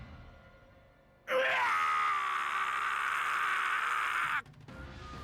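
A dying video game character lets out a long, intense scream, loud and sustained for about three seconds before cutting off abruptly, with quiet moments on either side.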